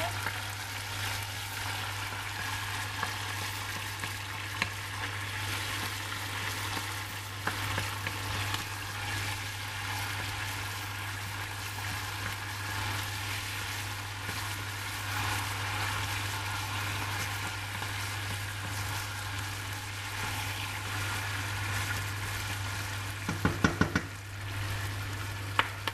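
Tomatoes and onions sizzle steadily in a frying pan while being stirred, a continuous crackling fry with scattered scraping touches and a low hum beneath, faint and close, ending with a few clatters of the utensil.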